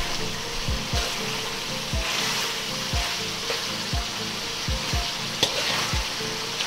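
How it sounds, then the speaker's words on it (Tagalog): Beef for Bistek Tagalog fries in oil as its sauce dries down, with a loud, steady sizzle. Regular scraping stirs land roughly every second, close and clear. "Ngayon po ay hahalo-haluin na natin to."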